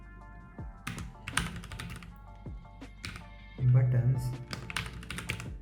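Computer keyboard keys tapped while coding a to-do list app in HTML, CSS and JavaScript, scattered clicks in short bursts, with someone speaking over the typing.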